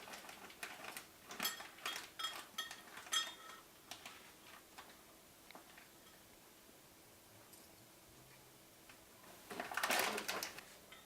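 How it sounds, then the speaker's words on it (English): A spoon stirring baking flour into milk gives soft, scattered clinks against the container, faint and close. They come in short clusters with quiet gaps, then a brief louder scrape near the end. "make sure as you're stirring this that you don't have any baking flour left over"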